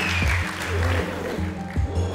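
A crowd claps continuously for an illusionist's coin-bending trick, a dense, fairly loud applause with voices talking over it.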